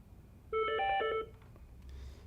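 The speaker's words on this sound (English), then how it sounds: "Now we're going to demonstrate how to answer your phone on an incoming ring." An office desk phone rings with an incoming call: a bright electronic ring burst of about three-quarters of a second, clear and close, with quiet room tone before and after.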